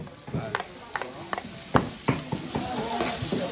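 Garlic and ginger fry in a pot with onions, a continuous crackling sizzle broken by regular spoon knocks and scrapes against the pot, close up with no one talking.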